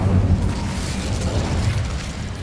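A fiery spell cast in the Hogwarts Legacy video game bursts with a loud, rumbling whoosh and crackle that sustains for a couple of seconds, dense and booming with no voice.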